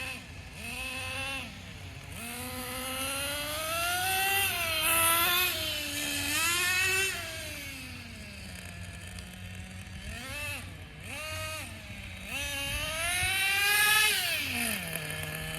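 A Traxxas Nitro Bandit nitro RC car engine screams at high pitch, its whine rising and falling repeatedly as the throttle opens and eases off, moderately close and continuous.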